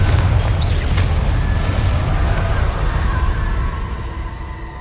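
A Confringo fire spell blast in Hogwarts Legacy, heard as a loud, sustained low rumbling roar that fades slowly over several seconds with no distinct sharp impact.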